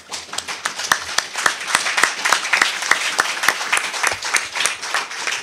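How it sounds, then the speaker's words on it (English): Applause from the audience at a parliamentarians' convention, a steady near wash of many hands clapping with sharp individual claps standing out through the whole stretch. "And can we continue the applause?"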